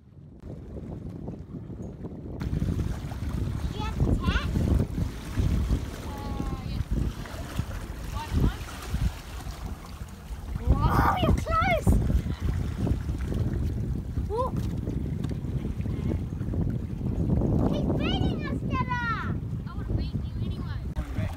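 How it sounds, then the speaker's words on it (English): Wind gusting over the sea around a small sailing dinghy at sunset near the Bay of Islands, a steady broadband rush with louder buffeting surges; voices talk intermittently over it. "Wind's up a little bit more than it was last time, and Ashley's having her turn in the sailing"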